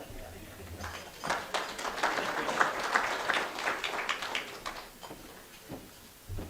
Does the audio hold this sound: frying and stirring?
no